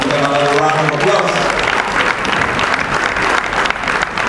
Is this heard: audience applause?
yes